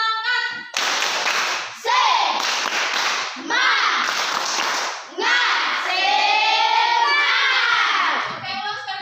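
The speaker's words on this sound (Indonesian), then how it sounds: "Baik, tepuk semangat." Students in class 8A perform a rhythmic spirit clap, with bursts of patterned hand claps mixed with voices chanting together in a lively, close classroom.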